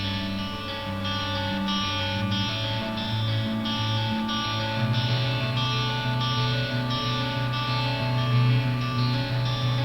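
A clean lead electric guitar melody sits over a sustained underlying part in a progressive metal style riff, playing steadily and fairly loud for the whole stretch without any voices.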